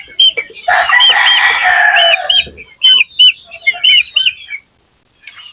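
Young gamecock stags scuffle close up, with a loud burst of squawking followed by a run of short, sharp clucks and chirps, then a pause and a final brief call.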